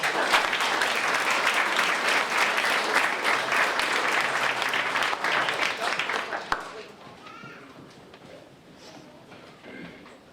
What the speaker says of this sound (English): give one more round of applause for all of our graduates